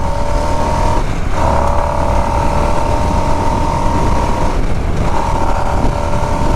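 A 2022 Harley-Davidson Nightster motorcycle accelerating on a test ride, its engine roaring loud and close with a steady drone and two brief dips, as at gear shifts.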